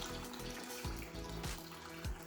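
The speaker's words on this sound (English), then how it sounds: "we're going to add some warm water" Warm water poured from a container into a bag of cereal, a soft steady trickling and splashing stream with a few brief gurgles, close and fairly quiet with no talking.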